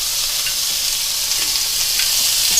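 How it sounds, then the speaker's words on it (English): Steak browning in about two tablespoons of olive oil in a cast iron skillet, a steady close sizzle and crackle with a few faint pops, no speech. "I'm going to get it into the pan here. Just to brown it. This has got about 2 tablespoons of olive oil."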